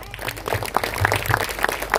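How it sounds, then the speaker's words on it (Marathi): An audience applauding at a public event marking a fort's victory day, a brief burst of dense clapping with some voices mixed in. "तुम्ही तुमच्यासाठी एकदा जोरजोरात टाळ्या वाजवा"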